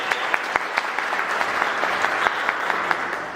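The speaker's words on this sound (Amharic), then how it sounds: "ስለዚህ ለሶስቱም በድጋሚ አንድ ጊዜ ሞቅ ያለ ጭብጨባ ነው።" Warm applause from an audience at a community meeting, steady dense clapping with a few sharper claps standing out, sustained throughout at moderate loudness.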